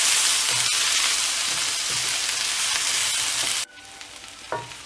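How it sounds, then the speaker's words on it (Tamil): Onions fry in hot oil for an ennai kathirikai kulambu, giving a loud, dense, continuous sizzle that cuts off abruptly near the end, leaving a quieter room with a small clink. "வெங்காயம் ஆட் பண்ணிவிட்டு நல்லா ஃப்ரை பண்ணணும்"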